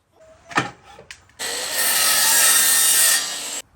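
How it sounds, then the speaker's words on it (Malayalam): Hand sawing of wood cut to a measured length for a van overhead cabin, a few short scrapes followed by a steady, close, continuous rasping saw stroke lasting about two seconds, with no talk. "നമുക്ക് എത്രയാണോ നമ്മുടെ ആ ഒരു നീളം അതനുസരിച്ച് കട്ട് ചെയ്തെടുക്കാം"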